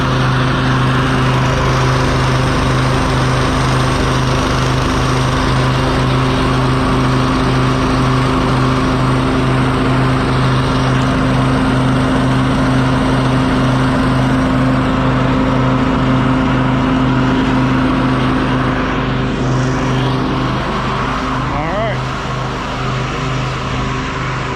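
A 30-inch Toro TimeMaster lawn mower engine idles nearby, a loud steady drone with a low pulsing hum that runs alone and unbroken, easing slightly toward the end.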